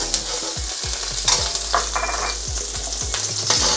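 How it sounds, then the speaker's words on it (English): Finely chopped ginger frying in hot oil in a wok, a steady loud sizzle with intermittent scraping and stirring knocks throughout, no talking. "We're going to add about a tablespoon of finely chopped ginger"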